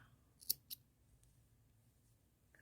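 Scissors snip black yarn, two short crisp cuts close together, then quiet handling noise while making a crocheted cow-shaped dish scrubber.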